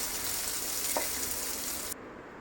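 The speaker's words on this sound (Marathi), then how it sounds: "आता आपण थोडंसं तेल टाकून हिरव्या मिरच्या भाजून घेऊयात" Green chillies fry in hot oil, a steady broadband sizzle with a brief stir or clink near the middle, close and loud, cutting off abruptly near the end.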